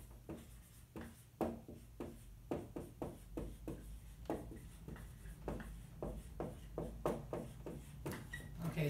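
A marker or pen drawing on a board during an art lecture gives repeated short scratchy strokes in an uneven rhythm, close and fairly quiet, with no talking.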